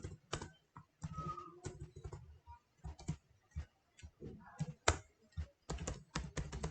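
Keys clack on a computer keyboard in quick irregular bursts, close and fairly quiet, with brief pauses between runs of typing.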